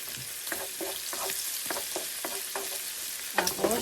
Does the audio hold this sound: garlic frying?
yes